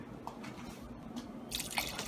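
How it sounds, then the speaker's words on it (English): Faint splashing and trickling of water, ending with a brief, brighter burst of water pouring into a pot of chicken soup with carrots. "I'm also going to add some more water."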